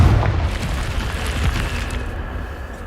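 Confringo fire spell explosion in Hogwarts Legacy, a deep rumbling boom right at the start that rolls into a sustained low roar and crackle, fading slowly over a few seconds with no voices.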